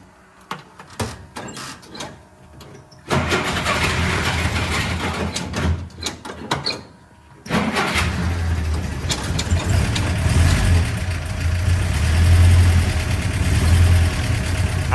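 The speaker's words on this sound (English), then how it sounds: "This one now with the clean spark plugs should fire up." A 1954 Willys Jeep CJ3B, its spark plugs freshly cleaned, cranks in several short bursts before the engine catches, then settles into a loud, steady idle with a few revving swells.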